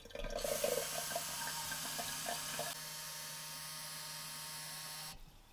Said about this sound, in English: So I'm gonna fill up my water.